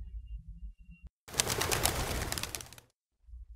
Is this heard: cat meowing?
no